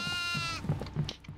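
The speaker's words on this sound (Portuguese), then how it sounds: "Nossa, tem outro bode aqui, velho." A goat bleats in the horror video game Invocando, one wavering bleat followed by a few short low grunting calls, fairly close and alone.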